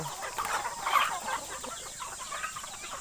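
Chickens at a home flock, with a rooster among them, cluck in short, fairly faint bursts over a quiet background, one call standing out near the middle.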